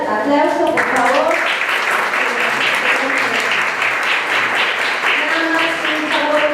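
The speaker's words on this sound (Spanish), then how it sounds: "Pues si les damos un aplauso, por favor." An audience applauds at a course on the history of the LGBTI movement in Mexico, the clapping swelling into a dense, fairly loud wash while voices speak and call out over it.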